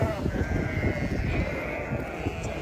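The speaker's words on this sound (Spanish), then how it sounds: "Esa oveja que tiene el cero atrás, azul." Sheep bleating repeatedly out in a cold open field, a steady close-up stream of overlapping calls from the flock over a rumbling outdoor background.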